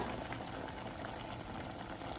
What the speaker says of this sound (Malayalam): നന്നായിട്ട് തിളച്ച് വന്നിട്ടുണ്ട്.